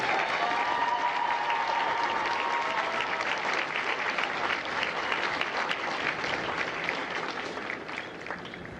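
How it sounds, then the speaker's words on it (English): Crowd at a Marine Corps recruit graduation ceremony for India Company staff at MCRD San Diego applauding, a loud sustained wash of clapping with a few cheers, tapering off near the end. "Please join me in a round of applause for the company staff of India Company."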